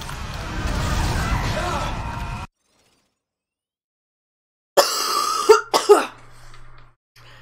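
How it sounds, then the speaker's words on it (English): A person coughs several times in sharp, close bursts, following a stretch of game sound and then silence, with some brief throat clearing. "Excuse me, still coughing."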